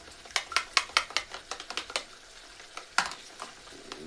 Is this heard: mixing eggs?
yes